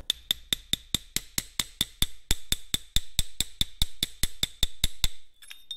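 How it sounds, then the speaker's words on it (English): Steady rhythmic metallic tapping, about four strikes per second, close and clear, as packing is driven into the retainer on a Caterpillar D2 diesel fuel transfer pump, with no talking. "Just tap it in a little bit."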